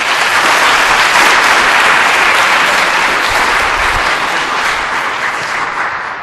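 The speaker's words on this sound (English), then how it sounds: "Let's have another round of applause for our speakers." Dense, loud applause from a conference audience for the speakers, steady throughout and easing slightly toward the end.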